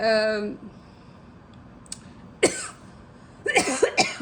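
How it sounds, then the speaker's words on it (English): A person coughs several times in short, harsh bursts close by, with a quiet pause between the first cough and the rapid cluster at the end. "God, why was I coughing?"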